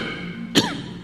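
A single sharp cough from a speaker, close and loud, bursts out during a speech to a crowd, standing out briefly against a steady background hum.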